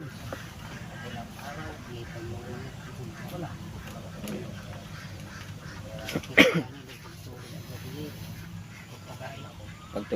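Ducks being carried along as livestock quack in scattered, mid-level calls beneath steady, busy voices, with a sharp louder burst of noise near the end.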